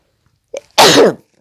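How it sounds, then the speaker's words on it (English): A single close, sharp sneeze preceded by a short intake of breath, then silence. "I'm going to sneeze, excuse me"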